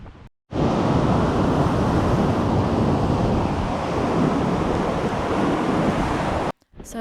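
Strong wind buffets the microphone on an exposed Danish beach as waves and surf roar steadily underneath, a loud continuous rush that cuts out briefly near the end.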